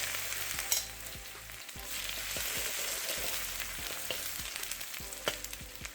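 Ginger hits a hot, smoking pan for halibut fried rice, bursting into a loud, close sizzle with bits of stirring and scraping over a few seconds, without talk.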